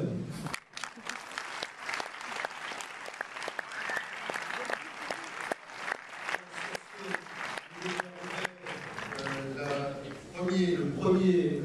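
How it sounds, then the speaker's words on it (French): An audience at the opening of the Paris International Fantastic Film Festival applauds in a sustained round of clapping with some louder individual claps, then it fades as a voice begins speaking. "je vous demanderai de vous applaudir vous-même"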